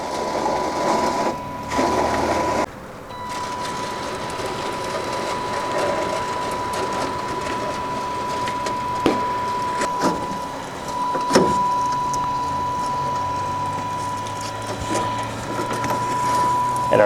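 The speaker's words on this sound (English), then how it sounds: "I'm simply drawing the old chain off, letting the motor do the work." A motor runs steadily to pull an old BOSS pintle chain off its mechanism, producing a continuous mechanical whir and hum with occasional clanks and rattles of metal links, while a person talks nearby.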